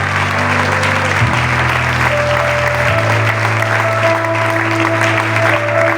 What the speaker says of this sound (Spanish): ¿Cuánto da un aplauso al Señor?